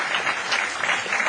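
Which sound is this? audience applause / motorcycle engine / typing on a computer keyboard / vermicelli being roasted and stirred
audience applause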